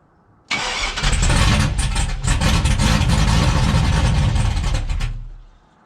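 An LS1-swapped Chevrolet Trailblazer V8 cranks and fires, a loud close engine roar that holds for several seconds with uneven pulses before dying away.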